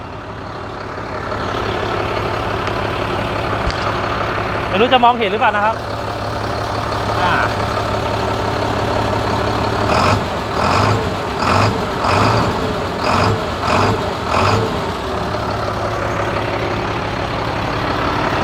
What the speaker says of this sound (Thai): เสียงเครื่องยนต์กัน